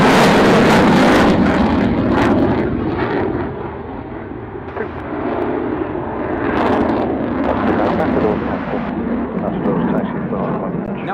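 A painted F-16 fighter jet roars past at the Duxford air show, a loud broad rumbling thrust that swells and eases over several seconds, with a voice speaking at times.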